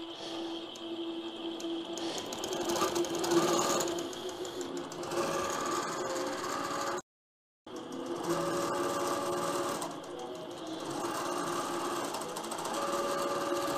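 An AutoPilot Mach 3 longarm quilting machine stitching edge to edge: a fast, even mechanical whir with rhythmic needle chatter, close and steady, broken once by a brief full stop before resuming.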